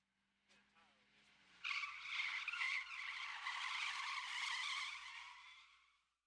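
A car skids with its e-brake yanked: a loud, sustained tire squeal and scrubbing roar lasting several seconds after a short engine lead-in, close by, fading out at the end.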